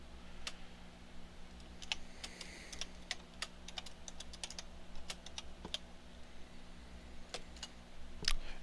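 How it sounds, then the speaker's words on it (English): Someone types on a computer keyboard while installing Arch Linux, producing quiet, irregular key clicks in short bursts over a low steady hum, with no talking. "Now I type in export lang equals"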